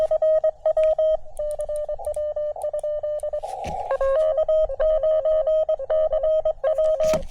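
Morse code (CW) on amateur radio during a portable summit and park operation at Sugar Hill State Forest: a steady mid-pitched tone keyed on and off in short and long elements, clear and continuous over faint background hiss, with no talking.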